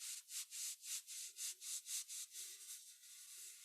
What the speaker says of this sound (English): I'll invite you to rub your heart,